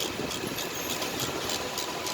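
A 2021 Hyundai Elantra engine with a defective CVVT unit idles close by, a steady dense mechanical hum with a continuous fine rattle and no pauses or voices.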